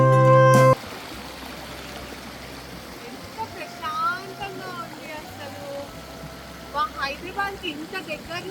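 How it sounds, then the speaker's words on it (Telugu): Water rushes steadily over a small waterfall near Hyderabad, a continuous broad hiss after a short loud burst at the start, with people talking over it. "అసలు ఆ వాటర్ సౌండ్ చూడండి ఎంత బాగుందో"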